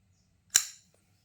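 A Walter Randolph Mini Persian folding knife flipping open, one sharp, crisp snap of the blade locking out, close and alone in a quiet room with a brief fading ring.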